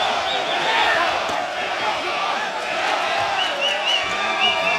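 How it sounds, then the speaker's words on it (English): A packed boxing arena crowd at the StubHub Center yells and chants in a loud, continuous roar, with rhythmic shouting rising and falling over the din. "Mexico, Mexico is what the crowd is yelling here at the StubHub Center"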